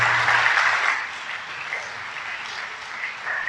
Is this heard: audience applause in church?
yes